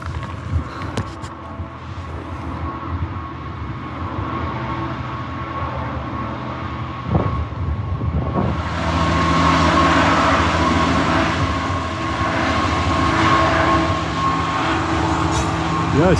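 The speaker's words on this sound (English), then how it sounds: "here, there's a train coming." A train rumbles past on the line near the Yorkshire Three Peaks, a low steady roar building as it draws closer and staying loud and near, with wind and outdoor noise around it and no talk.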